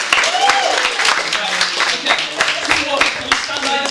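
A theatre audience at a mentalism show breaks into a round of applause, a dense patter of clapping from many hands that runs steadily throughout with a voice talking over it.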